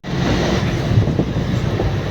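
A train pulling out of a station, heard from on board or close by as a loud, steady rolling rumble with faint rail clatter, brief and without talk.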